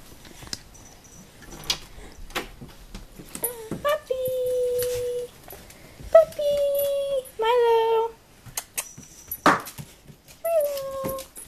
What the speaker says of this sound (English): Time to let the doggy out, right?